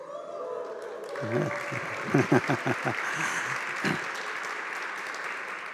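A church congregation at a celebration service claps and cheers for the pastor, with warm applause and whooping voices mixed together, swelling in short bursts over a background of talk.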